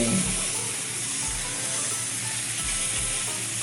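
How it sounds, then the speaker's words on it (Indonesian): Spray gun with a 1 mm nozzle applying melamine lacquer onto a wooden surface gives a steady, loud, close hiss that runs unbroken throughout. "kita semprotkan ke permukaan kayu yang kita ingin buat mengkilat seperti ini"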